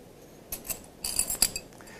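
Metal keys jingle and clink as one is picked from a set during a magic performance, a few close bright chinks in two short bursts over quiet room tone.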